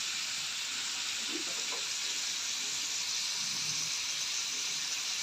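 Minced meat fries in a pan with a steady, close sizzle and hiss throughout, fairly loud, with no talking.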